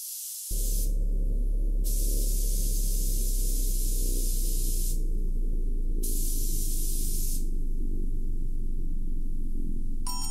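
Spray gun applying clear coat to a guitar body, hissing in several loud, steady passes separated by short pauses, over a constant low hum of a compressor or fan.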